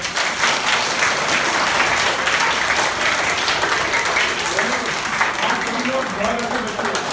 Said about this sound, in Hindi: तो ताली बजाओ सारे बच्चों पे।